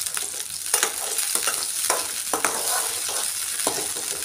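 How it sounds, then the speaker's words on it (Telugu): Green chillies and garlic sizzle loudly in hot oil for a village-style tomato and green chilli chutney, with steady frying hiss and irregular stirring scrapes throughout, close up and with no voice. "పచ్చిమిర్చి ఎల్లిపాయలు వేసుకొని మంచిగా కలుపుకుంటూ ఫ్రై చేసుకోవాలండి."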